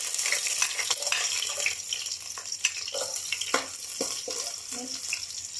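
Garlic fries in a hot pan, a dense continuous sizzle and crackle with scraping stir noises close by.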